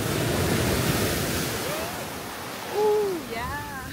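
Steady broadband wash of ocean surf rolling onto a short beach on the Outer Banks, with a few brief voiced whoops and calls rising over the waves near the end.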